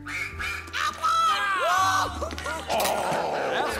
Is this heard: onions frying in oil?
no